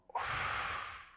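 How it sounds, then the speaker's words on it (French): One deep breath drawn in through the nose, a short sniff followed by a long, close airy inhale that slowly fades, in a quiet room. "Alors, une respiration."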